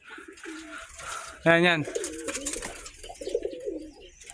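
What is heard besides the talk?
pigeons cooing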